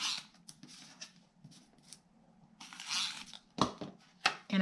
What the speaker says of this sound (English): I am going to take my tape runner and I am just going to add some tape